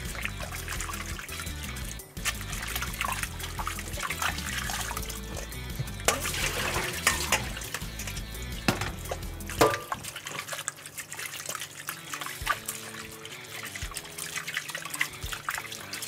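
Tap water runs steadily while buckwheat soba noodles made with 80 percent buckwheat flour are gently rinsed by hand, giving a close, continuous splashing trickle over a tonal background.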